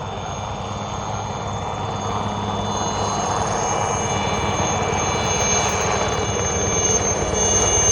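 An Indian Coast Guard helicopter's rotor and engine whine drone steadily and loud over the sea off Diu beach, growing slightly stronger as it continues with no other sounds.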